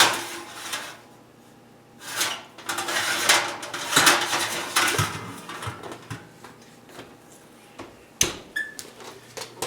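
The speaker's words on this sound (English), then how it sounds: "Okay, we're going to put our brisket in the oven." A beef brisket in its pan going into a home oven: clattering of the pan and rack, a door thump and scattered knocks, close and moderately loud, with quiet gaps between the handling noises.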